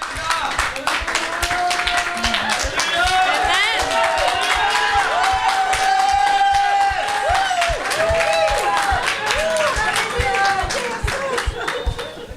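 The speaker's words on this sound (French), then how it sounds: "Let's clap for Jesus." A church congregation claps and cheers during a healing service, rhythmic hand claps and lively crowd voices filling the space loudly and steadily, with singing or shouting over the clapping throughout.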